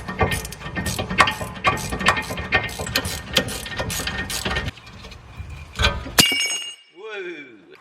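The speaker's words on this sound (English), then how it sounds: "I got this fancy thing that adapts a ratchet spanner" Ratchet spanner with an adapter working a crusty brake bolt on a Cupra, a steady run of rapid clicking pawl sounds with some talk mixed in, ending in a sharp metallic clatter.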